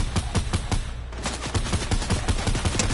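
Rapid bursts of gunfire from a Fortnite match, a dense string of sharp repeated shots firing steadily across the moment, loud and close with no talking over it.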